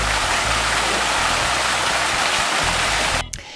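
Water churning and splashing in a whirlpool grotto beside the main pool at the Four Seasons Papagayo in Guanacaste, Costa Rica, a loud continuous rushing hiss that cuts off abruptly near the end.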